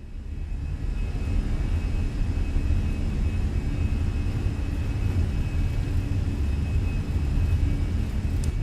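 An Airbus A320 (Fenix A320) on its takeoff roll in Microsoft Flight Simulator, with a strong crosswind; a loud, steady jet engine roar holds for the whole stretch with no break.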